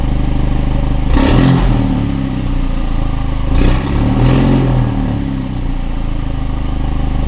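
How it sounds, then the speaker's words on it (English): A Mercedes-AMG A45 S W177 with an Akrapovic exhaust at cold start, its loud engine drone near the microphone with three sharp revs. "we can hear the proper sound of the exhaust"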